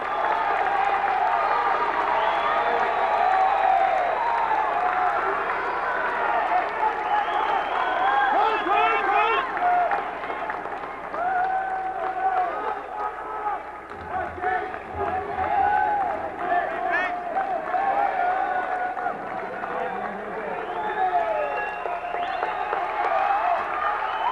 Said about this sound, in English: The De La Salle crowd rises here at the Oakland Coliseum.